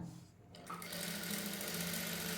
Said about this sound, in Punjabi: ਸਾਫ਼ ਕਰ ਕਰਕੇ ਸਲਾਈ ਲਾਉਣੀ ਹੈ ਇਸ ਤਰ੍ਹਾਂ